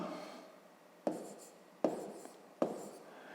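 Three sharp taps of a pen or chalk striking the writing surface, each followed by a short scratch of handwriting, as numbers are written out for long division in fifth-grade maths, quiet and close with no speech.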